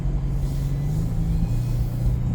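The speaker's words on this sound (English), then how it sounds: "deep, throaty engine notes" A Ford Mustang convertible rental car being driven gives off a steady low engine rumble, with road and cabin noise from the soft top blending into a continuous drone.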